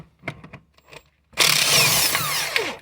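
An impact wrench removes a bolt during a transmission rebuild, starting with a few light clicks and then a loud, sustained, harsh whirring rattle up close.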